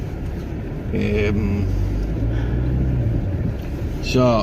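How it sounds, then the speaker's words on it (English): A Chevrolet Cavalier car sets off with a steady low engine rumble that builds slightly as it pulls away, while someone talks briefly over it near the start and again at the end. "So I'm just going to start driving"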